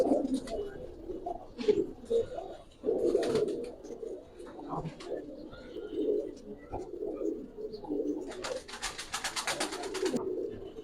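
Giribaz pigeons coo repeatedly in a loft, soft overlapping low calls close by, with occasional wing flutters and faint background noise.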